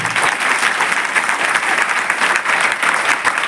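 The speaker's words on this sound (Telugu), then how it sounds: "మీరు అందరు కూడా అంతనే గట్టిగా చప్పట్లు కొట్టడం." A room full of students at a girls' junior college in Hyderabad claps hard and continuously, a dense, even wall of applause with no breaks for several seconds.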